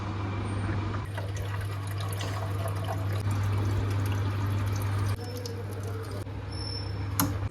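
Water pours into bottles with a continuous splashing, gurgling flow over a steady low hum, the pitch shifting slightly as each one fills.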